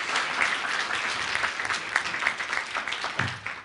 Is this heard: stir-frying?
no